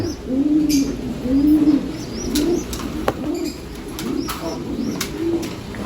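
Pigeons in a loft aviary give repeated soft, throaty coos, close and fairly loud, with faint chirps and light background noise.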